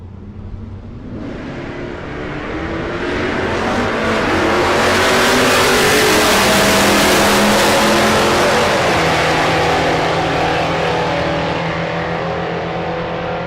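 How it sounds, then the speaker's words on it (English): A first-generation Camaro race car accelerates down a drag strip, its engine swelling from a rumble to a loud sustained roar as it builds revs, then easing off slightly near the end. "Charlie Weissman in the left lane, the first gen Camaro."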